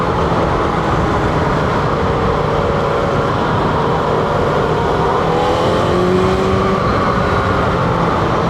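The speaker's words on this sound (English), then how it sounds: "the engine is running a lot smoother after putting that ignition coil back in" A motorcycle engine running smoothly after an ignition coil refit drones steadily and loudly with a rough, broadband roar, like riding along with wind buffeting the microphone.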